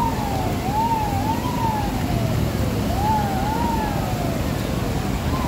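A fire truck siren wails in rising and falling sweeps, loud and steady over a dense rumble of traffic and street noise beside the Marikina River.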